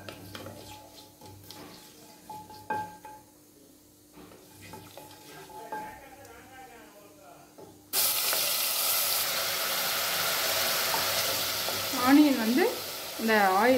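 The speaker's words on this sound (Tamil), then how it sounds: "ஆனியன் இந்த ஆயிலெலாம் பிரிஞ்சு வர அளவுக்கு நம்ம பச்சை வாசனை போகிற அளவு வதக்கி எடுத்துக்கலாம்" Ground onion paste with spices cooking in hot oil, a quiet clattering start giving way after eight seconds to a loud, steady broadband sizzle with brief sharper bursts near the end.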